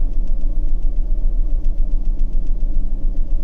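A SAAB 9000 engine ticks over at idle while nearly up to temperature, a steady close low rumble with a faint rhythmic ticking running through it.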